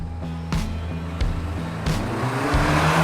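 Land Cruisers launching in a drag race, their engines roaring hard and climbing through gears with audible shift breaks roughly every half second, loud and close with no talk.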